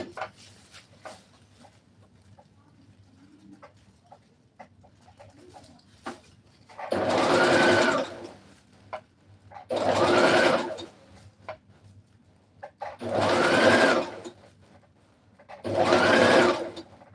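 A sewing machine stitching a dress, four separate bursts of a few seconds each with short pauses between, loud and close, and pigeons cooing softly in the background.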